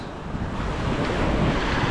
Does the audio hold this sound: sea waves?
yes